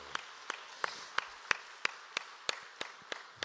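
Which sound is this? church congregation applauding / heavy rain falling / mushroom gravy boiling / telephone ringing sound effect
church congregation applauding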